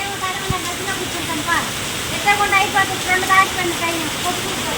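Rain falls in a constant heavy hiss, with a few faint voices and scattered clinks under it.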